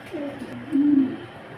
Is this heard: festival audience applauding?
no